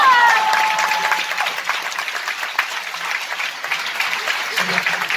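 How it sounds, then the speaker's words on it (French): An audience claps at a film premiere of Nicky Larson Private Eyes at Le Grand Rex in Paris, with a loud burst at the start that settles into sustained applause. "Allez, on peut les applaudir."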